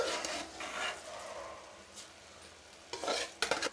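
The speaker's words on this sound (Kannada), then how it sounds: "ಅಕ್ಕಿನ ಹಾಕ್ಕೊಂಡು ಒಂದು ಸಲ ಚೆನ್ನಾಗಿ ಮಿಕ್ಸ್ ಮಾಡ್ಕೊಳ್ಳಿ" Washed rice being stirred into a pan while making masala bath, a soft scraping and sizzling swirl with louder stirring bursts toward the end, close and without talk.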